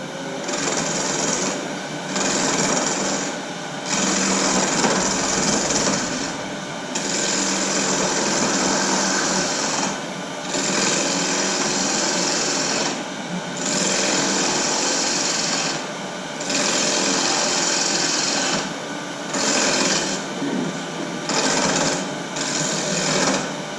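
Wood lathe spinning a disk vase blank with gaps, the off-balance workpiece jumping and chattering in a steady loud buzzing grind with brief repeated dips, close by and without talk.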